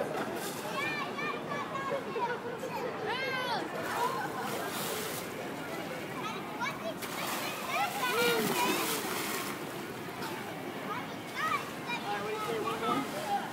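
Salt water splashing in the splash zone of a dolphin show, repeated bursts of spray and churning water heard over a noisy crowd with children's voices and people talking throughout.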